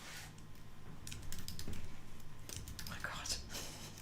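Fast, uneven typing on a computer keyboard during a programming lecture, with clicky keystrokes in bursts that are fairly close and clear, while the room carries a low hum.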